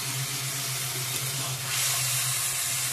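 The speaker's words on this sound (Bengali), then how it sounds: "ভালো করে ভেজে নেব চিকেনটাকে মশলার সঙ্গে।" Chicken frying with spices in a pan for a Bengali yogurt chicken curry, giving a steady close sizzle with a constant low hum underneath and a slight rise in hiss toward the end, no voices.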